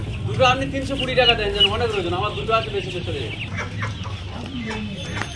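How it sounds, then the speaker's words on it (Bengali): Desi hens and roosters at a Nepalgunj poultry market cluck and call repeatedly, close and lively, while a person talks over the birds. "কত সুন্দর সুন্দর দেশি মুরগি আছে,"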